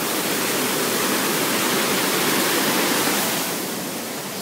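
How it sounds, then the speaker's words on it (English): A waterfall swollen after heavy rain pours water out from a lake, a dense, loud, steady roar of rushing water that eases slightly near the end, with no voices. "We'll see this waterfall too."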